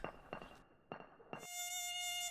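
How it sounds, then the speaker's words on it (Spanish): A mosquito buzzes in a kitchen, a thin steady whine that follows several sharp knocks and thumps and then holds alone, close and clear, for about a second. "en la cocina, un mosquito acecha a Miguelito"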